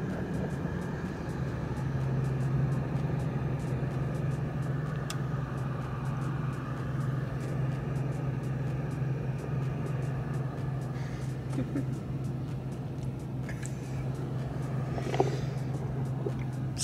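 Road traffic from inside a car stuck in a jam: a steady low rumble and engine drone throughout, with faint passing noises and a small knock near the end, no talking.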